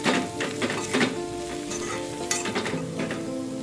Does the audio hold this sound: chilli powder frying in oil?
yes